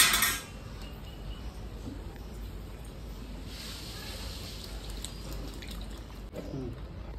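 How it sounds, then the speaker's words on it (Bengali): Water poured into a pan of nearly cooked potato curry, a steady close hiss of liquid running in after a brief louder start, continuing evenly. "এবারে জলটা ঢেলে দিলাম"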